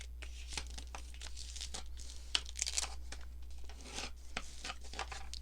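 Paper being folded and creased for junk journal pockets, with close, crisp crinkling, rubbing and sharp creasing sounds in irregular bursts over a steady low electrical hum, no talking.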